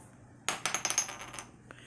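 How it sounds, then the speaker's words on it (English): Dice rattle and clatter across a hard surface during a tarot reading, a quick burst of sharp clicks and taps that fade out, with no voice over them. "I am going to roll your dice."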